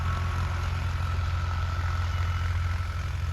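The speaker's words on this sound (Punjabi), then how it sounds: "ਤੇ ਲੋ ਵੀ ਮਿੱਤਰੋ ਚੱਲ ਰਿਹਾ ਟਰੈਕਟਰ" A Ford 3600 tractor engine runs at a steady low idle in a field, its deep continuous rumble close and even with no talk over it.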